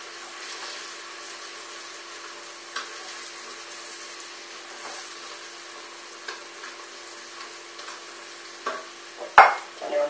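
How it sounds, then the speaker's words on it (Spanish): Smoked paprika stirred quickly in a pot for pig's trotters with chickpeas, a soft, muffled sizzle with faint scraping that builds to a few louder clinks and knocks near the end, no talking. "Y damos una vuelta rápida para que no se queme."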